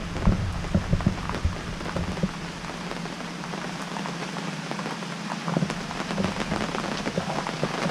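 Steady summer rain pattering on a tent or tarp close by at a campsite in Alum Creek State Park, with scattered heavier drops tapping through the constant hiss.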